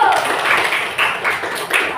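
A classroom of children claps together briefly, with a short burst of uneven hand claps and some overlapping voices.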